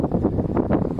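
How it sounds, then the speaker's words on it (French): Wind buffeting a microphone on a sailboat at sea off the coast near Port Bou, a steady loud rumbling gust noise with pulsing surges throughout, no voices. "parce que je sens qu'il y a du vent, je l'ai pleine poire"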